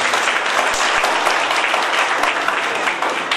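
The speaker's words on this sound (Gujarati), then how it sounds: "જોરદાર તાળીઓ" Loud, sustained applause from an audience at an annual school function of Jawahar Navodaya Vidyalaya in Botad, a dense wash of many hands clapping steadily throughout.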